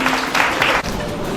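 An audience claps for Master Mool at a stage gathering in Hyderabad, steady dense applause with a few swelling bursts, fairly loud and continuous.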